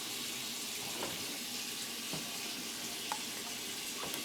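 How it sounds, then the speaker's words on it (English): Tap water runs steadily in a kitchen sink, a continuous broadband hiss with faint splashes and small clinks, heard alone at moderate level. "We got the water running back there to get nice and hot."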